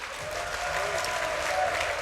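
Sustained applause from a large crowd fills an esports arena at a StarCraft II WCS tournament match, a dense steady roar of clapping at moderate distance with no voices on top.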